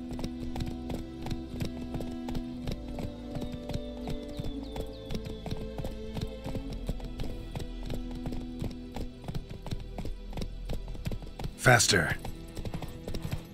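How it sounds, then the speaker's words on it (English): Horse hooves clip-clopping at a gallop in the video game Witcher 3, a steady rhythm of quick hoofbeats running under game music and a voice, with a brief louder burst near the end. "I like the horse sound. They did a good job on that."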